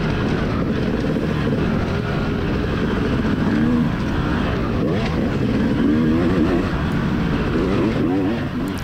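Husqvarna motocross bike racing at Loretta Lynn's, engines droning loudly and continuously with pitch rising and falling as bikes pass, steady and close throughout.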